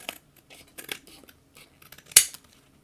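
Scissors trimming a small bit of paper in a crafting project, several crisp, close snips, with one sharper, louder cut near the end and quiet paper handling between them.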